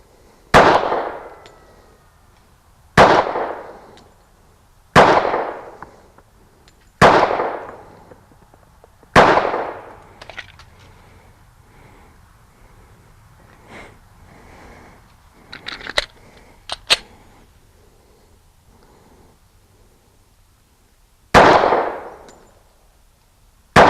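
A Ruger LC9 pistol fires at an outdoor range: five loud, sharp shots spaced a couple of seconds apart, then a quieter stretch of handling clicks, then a sixth shot, with no talk.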